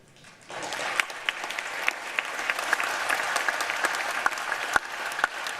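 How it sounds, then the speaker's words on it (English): Applause in the Senate chamber, a broad steady clapping of a sizable crowd heard from a distance, rising in after a quiet start with a few sharper claps standing out. "that applause must have been when he broke it."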